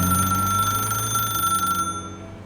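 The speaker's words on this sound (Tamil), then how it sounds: "காரை அங்கிருந்து எடுத்ததும் செல்போன் ஒலித்தது" A cell phone rings with a steady electronic trill that stops abruptly partway through, clear and close, in a Tamil audio story with no voices during the ring.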